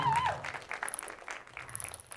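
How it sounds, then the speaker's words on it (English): Church congregation applause with scattered claps, moderately loud, fading slightly over a couple of seconds. "Can we just give the Lord a round of applause?"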